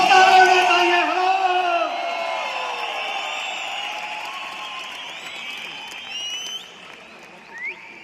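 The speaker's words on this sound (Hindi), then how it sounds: "तालियां बजती रहनी चाहिए, सीटियां बजती रहनी चाहिए, हू हल्ला होता रहना चाहिए।" Audience applause with whistles and cheering at a stage performance at an anniversary event, loud at first and gradually fading, with shrill whistles rising above the crowd noise.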